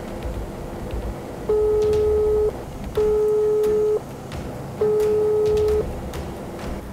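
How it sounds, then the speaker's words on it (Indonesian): Telephone call to a police public relations office going unanswered, heard as three evenly spaced, loud steady tones about a second long each, separated by short gaps over a faint background murmur. "saya coba telepon Humas Polres Cirebon"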